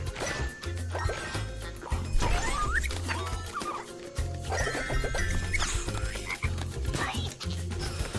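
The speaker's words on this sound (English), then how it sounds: "Still have the crabs and the frogs." Cartoonish frog croaks and yips from the platform video game JuJu on PC, repeating in short bursts over a steady game music loop, moderately quiet.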